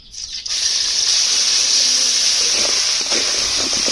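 Oil, onion and garlic paste go into a hot wok for Rupsa fish bhuna. A loud, steady sizzle bursts in suddenly and keeps hissing strongly and evenly to the end.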